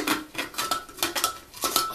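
A metal mesh strainer cup is pulled from a teapot, making a close, continuous run of light metallic scraping and clinking.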